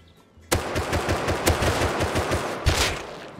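Close, loud automatic gunfire in the video game Rust: a sudden sustained burst of rapid shots with a heavier blast near the end, no talking.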